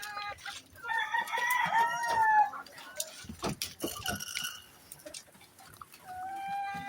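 Young roosters being fed piglet feed, clucking busily with a clear crow standing out among scattered calls and rustling, fairly close by.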